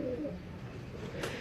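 Pigeons cooing nearby, a soft low warbling coo repeating steadily, with a brief rustle near the end.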